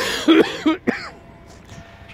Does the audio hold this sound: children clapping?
no